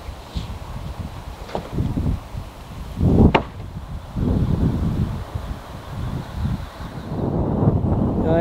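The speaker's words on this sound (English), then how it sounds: "Sorry about the wind" Gusty wind buffets a microphone outdoors at a raised-bed vegetable garden, producing low, uneven rumbling bursts that rise and fall throughout, with a louder thump near the middle.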